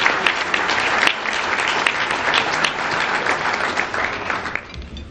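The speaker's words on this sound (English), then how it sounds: "A big round of applause for the generous support." A room full of guests at a morning breakfast event applauds steadily, dense clapping holding evenly for several seconds before starting to thin at the end.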